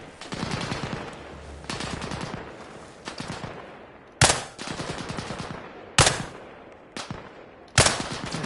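Rifle fire in Arma Reforger: repeated bursts of rapid automatic shots, with several sharp, loud single cracks standing out, close and continuous throughout with no talking.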